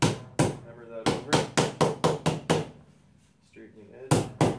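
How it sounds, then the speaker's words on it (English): Repeated hammer blows bend over the edge of a plywood build, about a dozen sharp, evenly spaced strikes in two bursts with a short pause between, loud and close. "Hammer that over."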